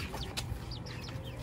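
A yellow chicken, carried on an arm during an outdoor walk, gives a few soft, short clucks and chirps, faint against a steady background rumble.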